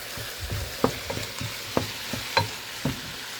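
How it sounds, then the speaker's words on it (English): Seasoned meat frying and being stirred in a pan, with a steady sizzle and several distinct scraping, clacking stirs spaced irregularly, close and clear with no voices. "So we are also going to season the meat now. So we're gonna put salt."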